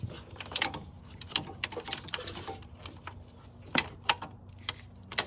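Ratchet clicking while loosening bolts during removal of the automatic transmission from a 2001 Honda Accord LX 2.3L I4, heard as quiet, irregular runs of sharp ticks with a few louder clacks, no talking.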